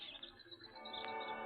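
Birds chirp and sing continuously at a moderate distance, with high, bright calls layered over a soft outdoor background.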